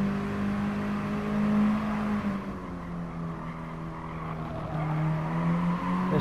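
Race car engine in Gran Turismo Sport, a steady high drone holding revs then dropping in pitch as the car slides through a tricky corner, with tire scrub under the continuous engine note.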